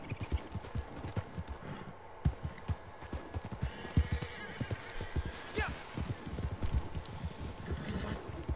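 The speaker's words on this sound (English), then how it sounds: "I think I found more horses." Horses in Red Dead Redemption 2 gallop with rapid rhythmic hoofbeats and let out an occasional whinny, while players talk over the game audio.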